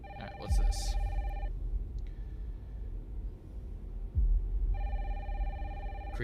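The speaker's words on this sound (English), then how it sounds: "Creepy door, phone ringing." A telephone rings in a Resident Evil Requiem trailer: two bursts of electronic ringing, each opening with a deep thud, over a low, ominous rumble.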